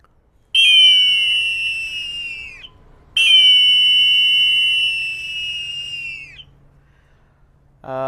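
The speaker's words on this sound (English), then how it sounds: "This is the eagle whistle." Two long, piercing blasts come from a triple eagle whistle, a Canadian Indigenous instrument built from three flutes in one. Each shrill, steady tone is held about two seconds, close and loud, with a short gap between blasts and a brief click at the end.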